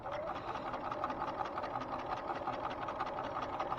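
Sewing machine stitching fabric side seams, a fast continuous whirring and chattering of the needle at close range, steady throughout with no speech.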